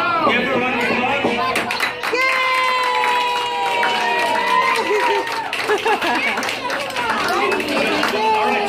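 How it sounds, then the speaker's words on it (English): A restaurant crowd at Buca di Beppo claps and cheers for a birthday guest, with scattered hand claps and excited voices and chatter mixed throughout. "Give her a round of applause."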